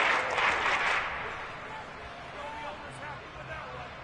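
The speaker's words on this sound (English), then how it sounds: "Some applause for the defense there." Stadium crowd applause for the defense in a Madden 23 preseason game between the Chiefs and Bears swells at first, then fades into a low crowd murmur under a commentator's voice.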